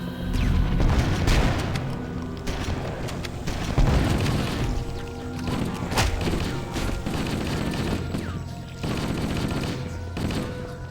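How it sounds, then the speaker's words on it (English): Grenade blasts and gunfire in a Halo firefight against the Flood, a dense barrage of booming explosions and rapid shots filling the whole stretch, loud and continuous with repeated heavy impacts. "Watch out, I threw a grenade."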